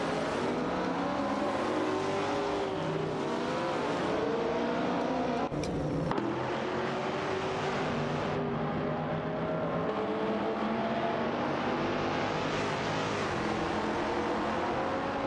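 A Ford GT40 and a Porsche 982 Spider battle for position in a race, engines droning continuously with rising and falling pitch as they rev, shift and accelerate, a constant loud motor roar with no voices.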